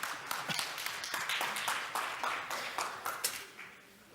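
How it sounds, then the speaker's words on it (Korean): Applause from a conference audience welcoming a presenter to the stage at a business talk on supply chain management, a steady crowd of claps lasting the whole stretch and tapering off near the end, with no talk. "뜨거운 박수로 맞이해 주세요."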